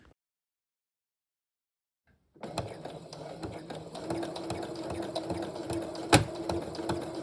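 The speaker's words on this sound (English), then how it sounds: "if your machine is making a weird noise like this, you need to stop sewing and take a look at your machine" A sewing machine with a bent needle runs with an odd, uneven mechanical clatter, starting abruptly after two seconds of silence and continuing steadily up close, with one sharp knock near the end.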